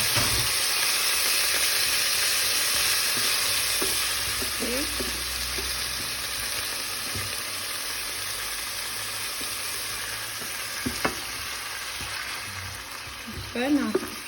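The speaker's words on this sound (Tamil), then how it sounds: "நான் அதை மிக்ஸ் பண்ணுறேன்." Frozen mixed vegetables fry in a pan with a continuous loud, hissing sizzle while being stirred. Occasional scrapes and light clinks of a spatula punctuate the sizzle, which rises into a brief bubbling crackle near the end, with no talk.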